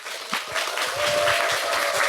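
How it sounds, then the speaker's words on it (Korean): Audience applause welcoming a returning guest, journalist Jang Il-ho of SisaIN, onto a Korean book-talk broadcast: a steady wash of clapping throughout, with a faint sustained tone running under it. "박수로 환영해 주셔서 감사합니다."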